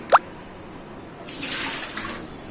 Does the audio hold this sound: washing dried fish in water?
yes